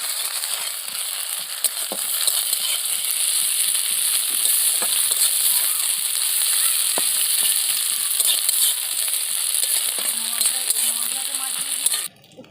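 Onions, ginger-garlic paste and chillies fry in a pan with a loud continuous sizzle and scattered clinks and scrapes of stirring, stopping abruptly at the end.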